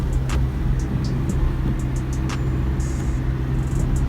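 A car engine laboring steadily as the vehicle drives uphill on a mountain road near Salalah, Oman, a constant loud low rumble with a few faint higher clicks and ticks.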